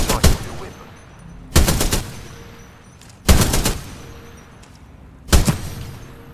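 A Spitfire light machine gun fires in Titanfall 2 in four short, sharp bursts about a second and a half apart, loud and close, each trailing off into a brief echo.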